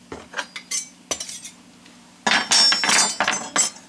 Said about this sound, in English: cutlery standing by